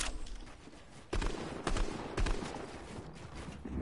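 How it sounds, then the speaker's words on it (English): Burst assault rifle fire in a video game, with several quick, close multi-shot bursts cracking out at short intervals over a busy background. "I got a burst assault rifle"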